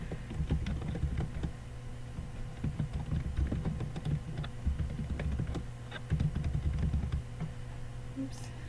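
Quick irregular clicking of keys on a computer keyboard continues in bursts and short pauses, close and fairly quiet, with a faint room hum beneath.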